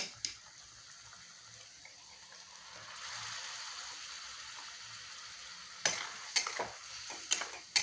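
Potatoes in masala sauté and get stirred in a pan, a soft continuous sizzle that swells midway, then several sharp scraping knocks of a spoon near the end, close and quiet.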